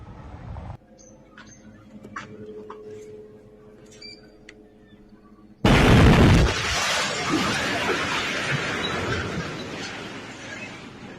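Israeli air strikes on Gaza: a sudden heavy blast erupts midway and leaves a loud, sustained roar and rumble behind it, after a quieter stretch of faint background noise.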